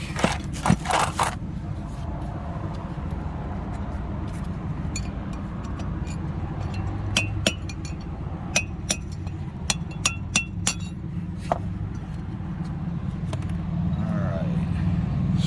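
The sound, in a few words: popping outer bearing race out of boat trailer wheel hub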